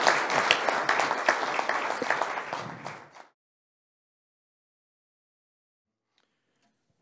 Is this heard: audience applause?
yes